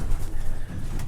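Racing pigeon youngsters cooing inside a loft as they move in, a soft, steady low murmur of several birds close by, continuous throughout with no talking.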